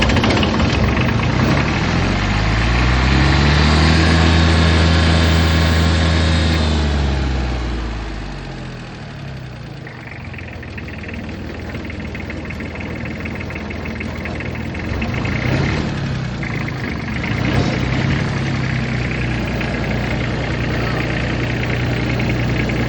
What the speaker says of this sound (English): the final thing we're gonna do is just run the engine and see if it stays